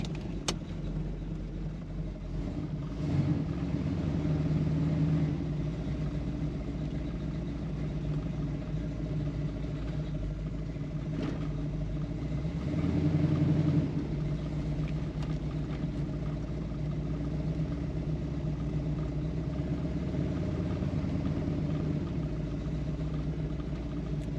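A Camaro V8 fitted with a Holley Sniper fuel injection idles steadily and still cold, a low continuous rumble with a slight swell partway through and no talking.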